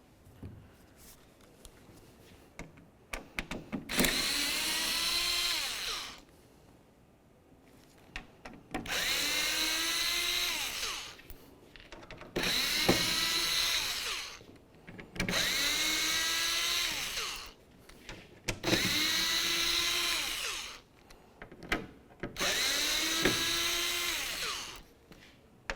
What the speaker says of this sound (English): there's going to be 8 Phillips head screws. Remove all the screws and then the protective plate.